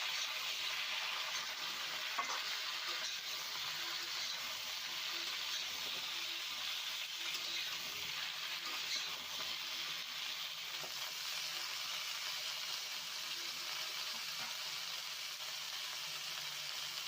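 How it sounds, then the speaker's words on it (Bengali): Chopped vegetables for Bengali shukto stir-fried in a pan, giving a steady, even sizzle that continues unbroken throughout, close up and with no voices. "এই সব সবজিগুলোকে ভালো করে নাড়াচাড়া করে ভাজা ভাজা করে নেব।"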